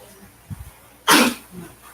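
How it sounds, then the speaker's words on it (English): A single sharp, loud sneeze bursts out after a few small throat sounds, followed by faint murmuring in a home with dogs nearby. "Keep sneezing."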